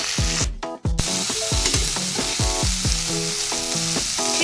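Chicken seasoned with turmeric and black pepper frying in a pan, a steady close sizzle with repeated stirring scrapes in a regular rhythm, no voices.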